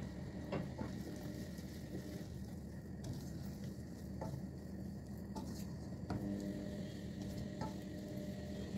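Sugar being stirred in a pan as it melts into caramel, with a steady low sizzle and occasional soft scrapes and clinks of the utensil against the pan, fairly quiet and continuous with no talking.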